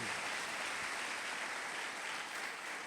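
A church congregation claps together in a continuous, even patter of many hands, fairly soft and sustained throughout with no voices standing out.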